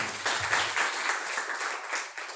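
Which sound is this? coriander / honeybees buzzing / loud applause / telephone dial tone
loud applause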